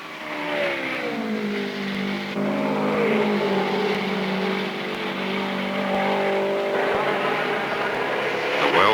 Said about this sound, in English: real racing battle is going on for third between teammates Gordon Johncock and Wally Dallenbach.